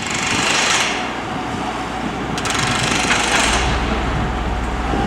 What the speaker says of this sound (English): All the bolts are in and crews are tightening them down right now.